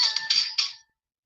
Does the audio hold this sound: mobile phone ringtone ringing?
yes